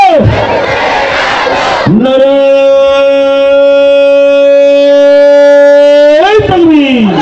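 Large crowd at a religious rally chanting a takbir slogan in unison, a loud sustained roar of many voices, one long held call rising and then falling away, close and overwhelming.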